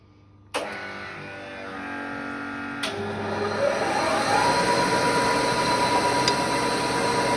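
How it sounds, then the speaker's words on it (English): Hydraulics on a Kellenberger 600 RJ cylindrical grinder switch on with a sharp clunk, and a second click follows before a steady, rising mechanical whir and hiss fills the shop. "Now, I turn on the hydraulics."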